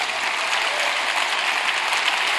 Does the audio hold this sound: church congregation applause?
yes